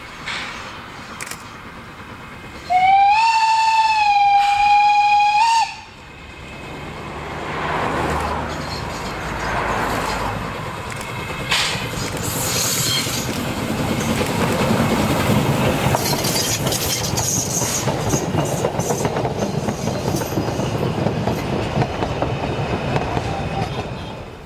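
A steam locomotive whistle blows a few seconds, then the train rumbles and clatters along the rails, steady and fairly close.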